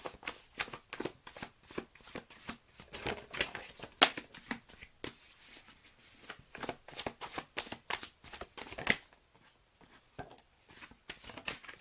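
Tarot cards being shuffled and dealt by hand: a steady run of crisp, quick riffles and soft slaps close to the mic, fairly quiet, with brief pauses as cards are laid out.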